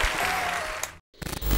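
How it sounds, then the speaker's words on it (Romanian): Studio audience applause at a Romanian podcast, a dense burst of clapping for about a second that cuts to silence, then resumes in scattered claps with background noise. "Aplauze, Ciucă!"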